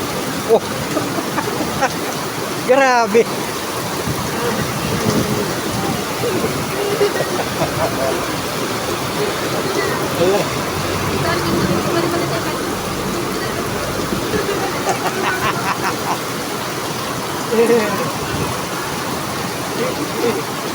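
Heavy evening rain pours in a steady broadband wash while people talk over it now and then, with a few louder bursts standing out from the constant downpour.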